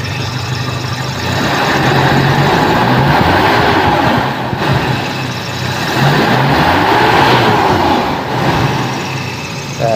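A Toyota Kijang 7K car engine, running with an emission control fault, is revved loud and close, rising and falling in a couple of slow swells over a steady rumbling idle.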